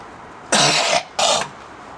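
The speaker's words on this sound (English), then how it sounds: "The reason I'm coughing so much" Two harsh coughs in quick succession, close and loud, with a short pause between them.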